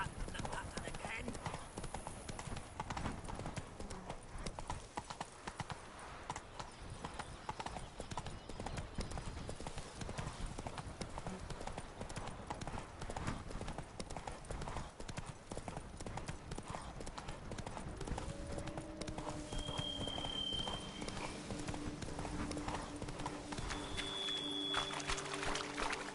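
Horse hooves clip-clop in a continuous galloping rhythm in the video game The Witcher 3: Wild Hunt on PS4, mixed with in-game sounds and heard alongside talking throughout.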